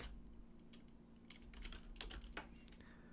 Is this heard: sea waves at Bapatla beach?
no